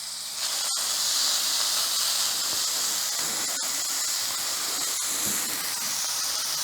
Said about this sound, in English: checking to see if my steak is ready to release. Looks like it is, so I'm going to go ahead and flip it